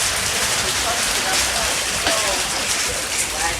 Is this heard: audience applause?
no